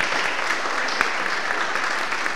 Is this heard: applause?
yes